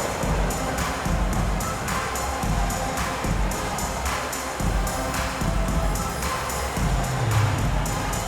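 Arena crowd noise at an Indiana Pacers home game against the Boston Celtics in the NBA 2K26 video game, a steady loud roar of cheering that swells in rhythmic waves throughout, with no talk over it.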